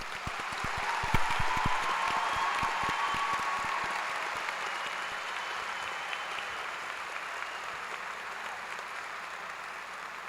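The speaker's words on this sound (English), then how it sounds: "All right, how about a round of applause?" Sustained applause from a large audience at a college commencement ceremony, steady clapping filling the hall for about ten seconds and slowly fading toward the end, with no voices over it.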